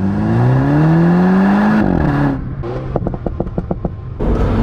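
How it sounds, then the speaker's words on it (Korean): Mini Cooper S three-door revving hard under acceleration, then a quick string of sharp, crackling backfire pops from the exhaust, loud and close with no talk. "뒤에 이제 백파이어가 터지는 그런 빠박빠박 하는 그런 콩알탄 터지는 것 같은 소리도 연신 들려서"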